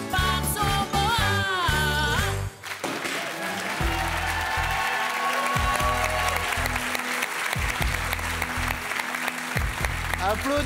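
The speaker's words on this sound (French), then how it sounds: "applaudissements pour Zidane" Audience applause fills a French variety comedy show after a dance performance, breaking out loudly after a brief burst of music and continuing steadily while a presenter talks over it.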